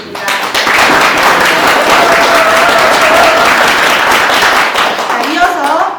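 A roomful of listeners applauds loudly and steadily after a candidate's announcement at a county governor press conference, the clapping sustained close by, with a voice starting up at the very end.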